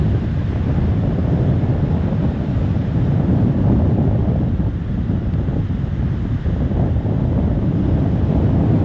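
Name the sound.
strong wind and surf at Haystack Rock, Cannon Beach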